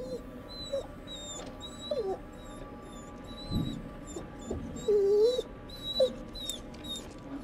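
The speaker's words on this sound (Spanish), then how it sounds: "Un gimoteo." A dog whimpers in The Devil in Me video game, with thin, high wavering whines repeating through a dim, hollow indoor ambience.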